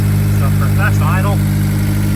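An Acura TSX wagon engine holds a steady fast idle with a constant low hum throughout, while a person talks briefly over it in the middle.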